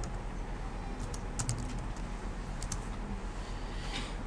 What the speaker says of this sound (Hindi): टैब का बटन दबाएंगे, अगली लाइन खुद ही बन जाएगी।